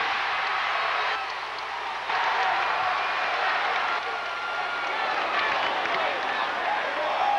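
Basketball arena crowd at a 1993 Michigan Wolverines versus Michigan State Spartans college game, cheering and clapping in a broad sustained roar at a free throw, swelling and dipping over several seconds, a steady wash of noise at moderate distance.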